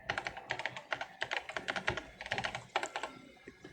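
Rapid, crisp clicking of keys as Princess Peach types on a keyboard in Paper Mario: The Thousand-Year Door, irregular bursts of keystrokes close and clear with no talk.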